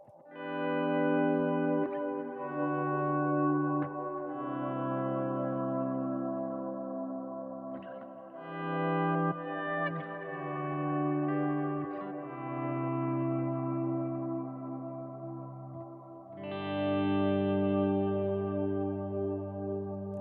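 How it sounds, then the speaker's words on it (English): Electric guitar played through a Kemper Stage with delay and auto swell, sustained chords fading in softly and blooming into long echoing trails, several swelled phrases ringing on over twenty seconds with no voices. "I have a delay and a auto swell on this switch."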